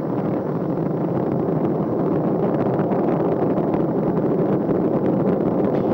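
Space Shuttle Discovery's main engines during the STS-128 launch from Kennedy Space Center: a continuous, dense, low roaring rumble, steady and loud throughout with no pauses or voices.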